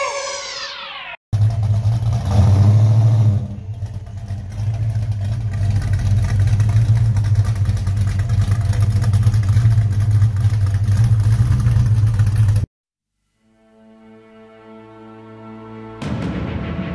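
Loud, deep roar of a 1973 Plymouth Road Runner V8 firing up and revving hard close by, sustained for several seconds before cutting off abruptly, followed by a quiet gap and faint tonal sounds.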